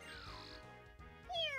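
A cat meows in a room with video game music playing, giving a few drawn-out, rising and falling cries, fairly faint and mixed with the game sounds.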